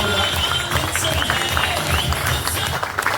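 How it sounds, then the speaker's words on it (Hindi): A seminar audience in Thane claps together in a dense, continuous burst of applause that fills the room at steady loudness for a few seconds. "ताली होनी चाहिए"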